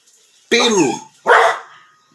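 A small dog yaps twice in quick succession, two sharp, close barks about three quarters of a second apart, the first with a rising and falling whine-like tone, heard alone.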